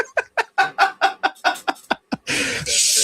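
A rooster clucks in a rapid series of about a dozen short, loud, close calls, followed by a burst of rough noise at the end.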